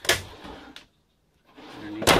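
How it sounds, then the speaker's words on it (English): Storage drawers in a 2018 Thor Motor Coach Chateau 31E RV slide open and shut with short rumbling scrapes and a sharp knock at the end, separated by a brief silence. "In addition, we got two big storage drawers here."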